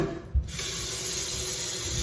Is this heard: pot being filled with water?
yes